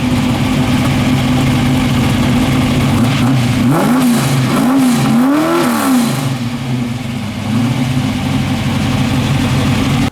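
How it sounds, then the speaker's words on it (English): A 1971 Camaro SS's 383 stroker V8 idles with a deep, rumbling exhaust, revving up a few times in the middle before settling back to a loud, steady burble. "I just want you to hear this thing, how this thing sounds, man. It's got awesome exhaust."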